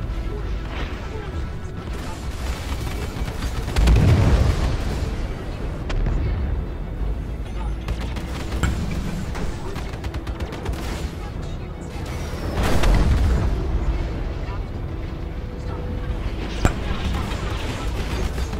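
Missile explosions in a video game battle, two heavy booming blasts a few seconds apart with rumbling combat noise between them and a sharp crack near the end.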